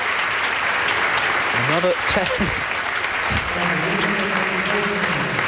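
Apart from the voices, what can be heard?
audience applause at bowling World Cup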